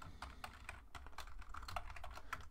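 Quick, light keystrokes tap out a short run of typing on a computer keyboard, heard close and fairly quiet with an uneven rhythm and no talking.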